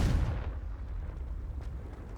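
A Confringo blasting-spell explosion from Hogwarts Legacy, a single heavy booming burst at the very start that rolls off into a low rumbling tail, close and loud, no talk.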